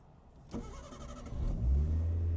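A 1992 Subaru Vivio RX-R with a supercharged engine cranks briefly, then fires and settles into a loud, steady idle, heard up close with no talking.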